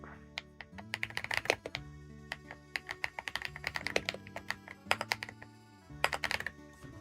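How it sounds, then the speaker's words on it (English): Fast, irregular typing on a computer keyboard, a keyboard that is hard to type on, with sharp close clicks in quick bursts and short pauses over a low background hum. "This keyboard, I really struggle to type on this thing"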